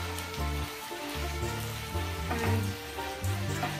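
Shrimp sizzle in a pan as a splash of white wine is added, a steady close crackling fry with bubbling and a few stirring scrapes, moderately loud and free of talk.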